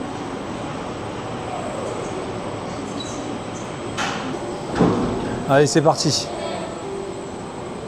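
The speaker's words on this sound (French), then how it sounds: "Je vous emmène avec moi dans le train du futur." Futuristic train in Shanghai, with doors sliding and rattling partway through over a steady rolling ride noise while a person talks.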